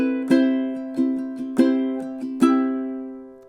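Ukulele strumming measure 5 of House of the Rising Sun, six or seven bright chord strums in a steady three-beat pattern, each ringing out and decaying, close and alone.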